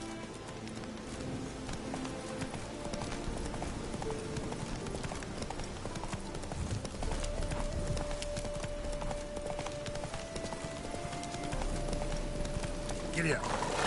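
Galloping horse hooves in The Witcher 3, a steady rhythmic clip-clop throughout with game music and ambience, and someone speaking over it.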